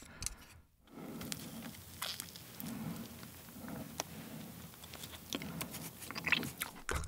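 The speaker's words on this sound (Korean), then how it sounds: "아무튼 먹어보겠습니다. 숭어 레몬 구이." Lemon-grilled mullet being eaten up close, with steady crunchy bites and wet chewing repeating through the clip under a soft, rain-like crackle, and no talking.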